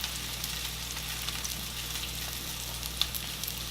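Dried tomatoes and other vegetables simmering in a pan on a stovetop, a faint, even sizzle with a low hum underneath and one brief tap, no voices.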